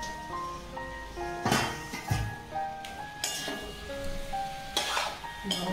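A metal lid is set over a cooking pot of bottle gourd and mung lentils, making a few sharp clanks and clinks spaced a second or so apart, close by, over soft background music.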